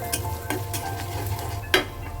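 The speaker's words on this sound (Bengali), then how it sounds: "সব কিছু একসাথে ভাজা শেষ, এখন ডালটা বাগার দিয়ে দেবো" Spices frying in a pan for a lentil tempering give a steady close sizzle, broken by scraping stirs and a sharp spitting burst near the end.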